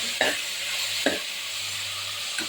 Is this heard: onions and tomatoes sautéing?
yes